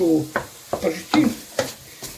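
Food frying in a pot for a military-style bean stew gives a sizzle broken by several short stirring and scraping bursts, close and fairly loud.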